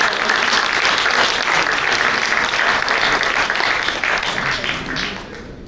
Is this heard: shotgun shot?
no